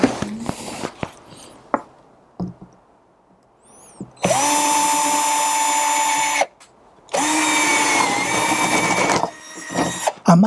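A power drill bores a hole in a homemade jigsaw jig for its clamp, running in two sustained whining bursts of about two seconds each, loud and close, with small handling clicks and knocks before and between.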